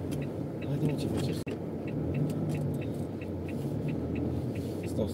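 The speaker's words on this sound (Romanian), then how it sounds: "Trec cu spatele în mașină, dacă fac stânga aici." A car engine hums low and steady as the vehicle reverses and turns left near a curb, with a brief dropout partway through and faint muffled voices in the cabin.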